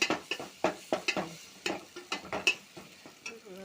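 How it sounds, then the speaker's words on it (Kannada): Tomatoes and beans simmer and bubble in a pan, with a series of sharp clatters and scrapes like a spoon stirring against the metal, irregular and fairly close. "ಅದ್ರಿ ಕಾಳು ಅದೇ ಕುದಿಯಾಕೈತೆ ನೋಡ್ರಿ. ಟಮಾಟ ಕುದಿಯಾಕೈತೆ ನೋಡ್ರಿ."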